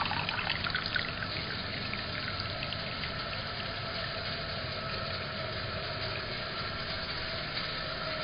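A steady little stream of water trickles from a reflux still with a separate condenser column, a continuous close dribble holding an even level throughout with no voices.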